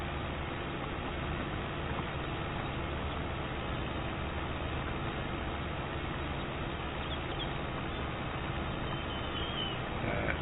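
A 1972 tractor ploughing soil, its engine a steady, dense, unbroken drone that stays constant and fairly muffled for the whole stretch, with no voices.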